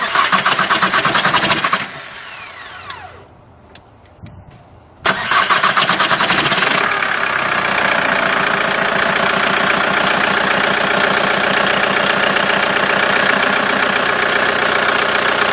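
A diesel engine with a Bosch VE injection pump cranks and catches, runs rough for a moment and then settles into a loud, steady idle with a knocking clatter.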